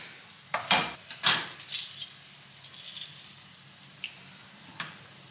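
Three small garlic cloves dropped into hot oil in a frying pan give a few sharp sizzling bursts, then settle into a faint, steady crackle with occasional small pops.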